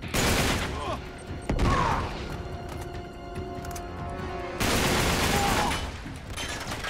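Rapid bursts of gunfire from Uncharted 3: Drake's Deception, loud and close, a dense fusillade that swells, dips briefly, then surges again, with a voice partly buried beneath.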